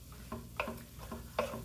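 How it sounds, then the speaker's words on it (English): Spoon stirring a thick creamy chicken and wild rice dish, four soft scraping, squelching strokes in an even rhythm over a quiet background hiss. "just give that a stir and see how that looks"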